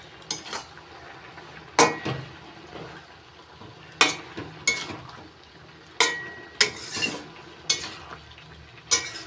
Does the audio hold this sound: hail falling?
no